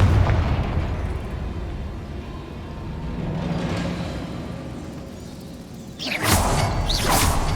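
A Confringo fire spell from the video game Hogwarts Legacy bursts loudly near the end, a sharp explosive blast rising out of a steady rumbling game ambience.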